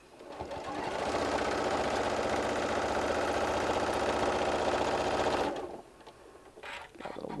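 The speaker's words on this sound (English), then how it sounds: "I'm just going to stitch right over those stitches" A sewing machine stitches a walker bag, running steadily at a fast rhythmic pace for about four and a half seconds before stopping, followed by faint handling noises.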